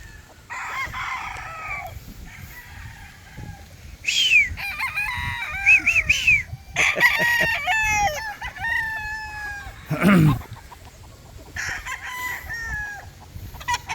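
Bull stags and cocks kept as breeders crow one after another at close range, with several drawn-out cock-a-doodle-doo calls overlapping and some clucking between them.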